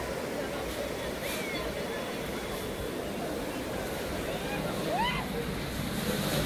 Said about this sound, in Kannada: ನೋಡಿ ನೋಡಿ ಎಷ್ಟು ರಭಸವಾಗಿದೆ ಅಂತ ನೀರು ಇಲ್ಲಿ.